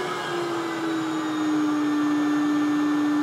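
A Player-Care vacuum pump kit for a player piano runs at its full vacuum setting of 75, giving a steady, loud motor whine with a constant tonal hum that holds unbroken throughout.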